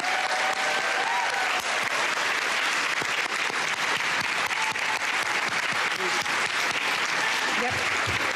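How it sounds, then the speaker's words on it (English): Sustained audience applause for honorees at a school board meeting, dense steady clapping filling the room throughout without a break, a few faint voices mixed in. "Please give all of our honorees another round of applause."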